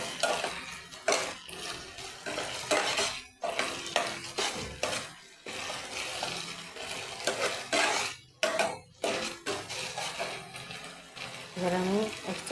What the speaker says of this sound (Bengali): আদা রসুনটা দিয়ে একটু ভেজে নেব ভালো করে।